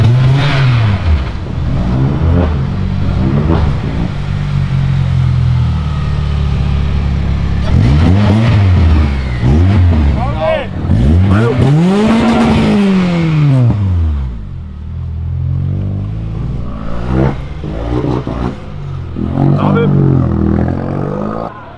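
A Honda Civic Si engine revs loudly in repeated rising and falling surges, dropping between pulls as gears change, with occasional voices nearby.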